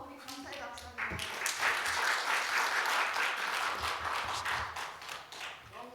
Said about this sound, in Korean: 우리 감사의 박수 한번.